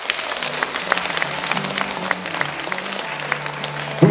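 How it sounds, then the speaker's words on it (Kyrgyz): Audience applause fills a philharmonic hall at a televised talent-show concert: dense, steady clapping from a large crowd that holds at an even level throughout, with a faint low hum underneath. "баардыгы кол чаап коюңуздарбы"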